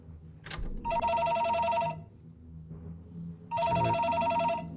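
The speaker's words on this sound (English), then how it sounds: "There's a phone right here." A telephone in the horror game BrokenLore: Unfollow rings in two loud, sustained electronic bursts with a pause between them, close and harsh over a low ambient hum.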